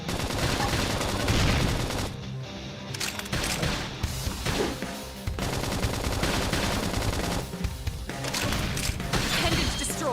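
Rapid video-game gunfire from Tears of the Kingdom, dense bursts of shots and crashing impacts crowding together almost continuously, loud and close.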